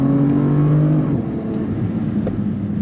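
2022 Bentley Continental Speed on a race track, its engine note strong and steady as it pulls hard out of a corner, a sustained close roar with a rising drone that fades slightly partway through.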